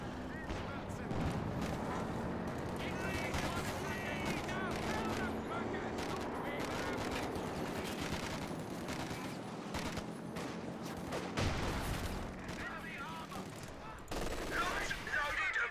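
Gunfire and explosions crackle and boom throughout a tank battle in the Company of Heroes 2 video game, with a voice talking over the fighting.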